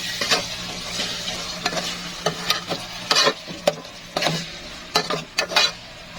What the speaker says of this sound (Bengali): পেঁয়াজগুলো লম্বা লম্বা করে তুলে দিয়েছি এবং তেলের মধ্যে দিয়ে দিয়েছি